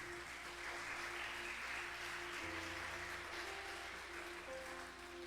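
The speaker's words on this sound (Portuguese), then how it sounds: "eu posso escutar uma salva de palmas para o nosso Senhor Jesus Cristo?" Church congregation applauding in worship, a soft, steady wash of clapping heard at a distance with a low sustained tone beneath it, no talk over it.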